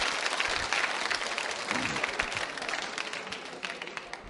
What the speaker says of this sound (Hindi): इस जानकारी के लिए भी आप बजा सकते हैं तालियां, उपयुक्त समझो तो जोरदार तरीके